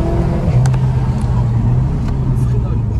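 A front-wheel-drive Seat Leon Cupra drives with a steady, loud engine drone heard from inside the cabin, with people talking over it.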